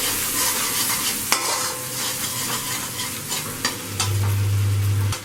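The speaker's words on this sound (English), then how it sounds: "Give it a stir." Sauces for chicken fried rice, chili, green chili and oyster sauce, stirred in a hot pan: loud close sizzling with sharp spatula clacks against the pan and a low steady hum underneath.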